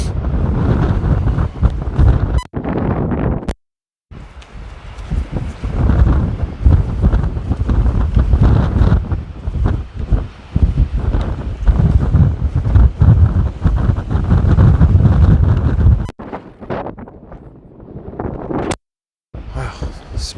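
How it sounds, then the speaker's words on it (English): Strong, relentless wind roars across an exposed mountain summit, buffeting the microphone in heavy gusts with only brief lulls. "It's always windy, but it's extraordinarily windy today."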